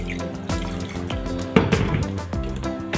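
Water is poured into a mixer grinder jar holding mint leaves while aam panna is being made, a close, gurgling splash that swells and settles in short bursts.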